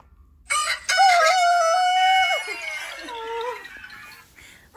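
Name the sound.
rooster crowing alarm sound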